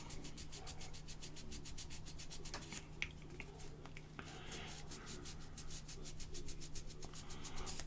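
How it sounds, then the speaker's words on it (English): Small plastic parts from a Holt 75 artillery tractor model kit being sanded by hand, giving a steady, fast, close scratchy rubbing in quick repeated strokes that keeps going throughout, with no talking. "you got to be real careful with your sanding because there's so much to sand out"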